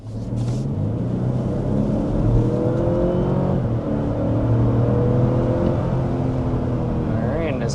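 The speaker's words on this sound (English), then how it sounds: "But first, we need to start with a hard acceleration." A 2026 Lexus LX 700 SUV accelerates hard, its engine a steady, loud rumbling roar with rising harmonic sweeps that holds for several seconds, with no one speaking.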